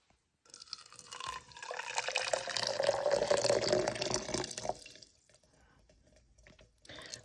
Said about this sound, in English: drop the needles in there and then put some hot water over top of it